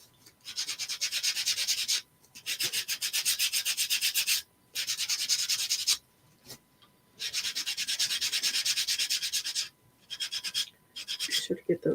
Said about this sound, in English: I'm just going to sand the edges.